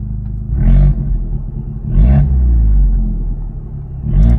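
An Abarth 695 Rivale in sport mode with its exhaust valves closed idles with a deep, loud rumble, then revs sharply three times in short bursts, each one falling back to a steady burble.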